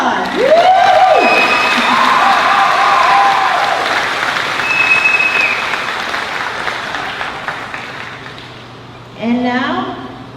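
Crowd applause and cheering at a college commencement ceremony, loud sustained clapping with whoops and shouts that gradually fades, a voice calling out over it and speech starting near the end.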